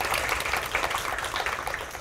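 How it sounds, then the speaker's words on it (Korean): An audience at a Korean policy forum applauds two professors after their presentation: a sustained wash of many hands clapping, moderately loud, with no speech over it. "귀한 발표를 해주신 두 분의 교수님들께 다시 한번 큰 박수 부탁드립니다"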